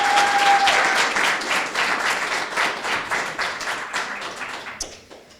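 An audience at an entrepreneurship accelerator's final presentations gives a big round of applause, dense clapping that starts strong and gradually thins and fades out by the end.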